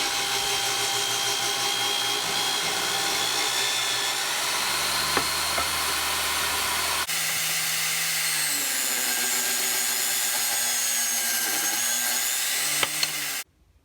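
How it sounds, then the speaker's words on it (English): Table saw ripping cherry wood into 2 1/4 inch wide strips, a steady loud machine whine and cutting drone that shifts pitch partway through, running continuously before stopping abruptly at the end. "Now I'm going to head back to the table saw and cut some cherry to 2 1/4 inches wide."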